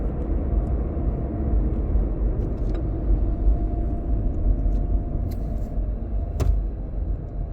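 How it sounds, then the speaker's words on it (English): A repo truck rumbles past outside, a low steady engine drone that swells slightly and stays constant, with a couple of faint knocks near the end and no talk. "Oh, here comes the repo truck."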